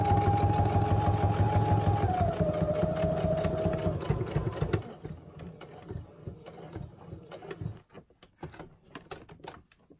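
A sewing machine stitching tag pockets runs in a fast, steady whir with a faint rising whine, then stops at about five seconds, leaving only scattered clicks and handling sounds.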